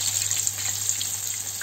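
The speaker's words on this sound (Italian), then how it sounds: "nell'olio cerca di schizzare un attimino, quindi attenzione" Apple fritters fry in hot oil, giving a steady, close, crackling sizzle with a low hum beneath and no voices.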